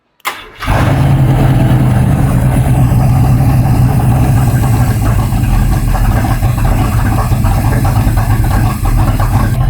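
A car engine starts after a camshaft repair and settles straight into a loud, steady idle that drones on uninterrupted close by.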